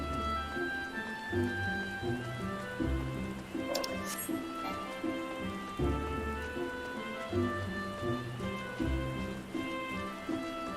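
Steady rain falls through a forest area in the Final Fantasy 14 online game, a dense continuous patter under layered game music with a brief brighter burst near the middle.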